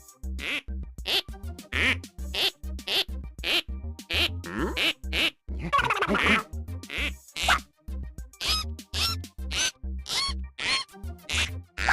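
Cartoonish duck quacks from the mobile game Where's My Water? repeat in a quick, steady series as the ducks are tapped, loud and close, with a few overlapping squeaky bursts in the middle.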